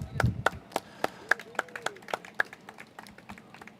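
A small crowd at a Juneteenth marker unveiling ceremony claps for speaker Will Vaughn, sparse, evenly spaced hand claps ringing out at moderate volume with a faint murmur beneath.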